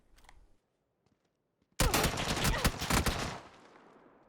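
Gunfire in the video game PUBG, a sudden loud burst of rapid automatic shots after a near-silent stretch, the rattling volley trailing off over about two seconds.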